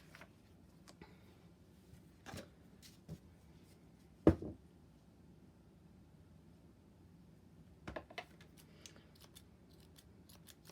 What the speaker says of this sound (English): not the sharpest of scissors in the world.